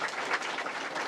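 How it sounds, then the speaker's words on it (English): Applause from a seated audience at a state government literacy event, steady and dense clapping filling the room for a short stretch with no voices over it. "I want to give her a special round of applause"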